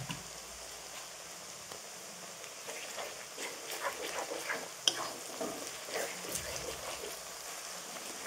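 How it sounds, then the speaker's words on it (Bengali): Ginger and garlic paste with lightly fried onion sizzles faintly in a pan, a soft steady hiss broken by occasional stirring clicks and scrapes. "আদা রসুনটা ভাজা হয়ে গেছে।"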